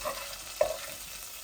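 Hilsa fish fries in oil with a soft, steady sizzle and one brief utensil knock in the middle.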